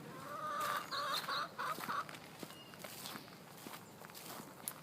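Chickens cluck and murmur close by around their feed on a windy winter farm, soft clucks in the first two seconds over footsteps and rustling.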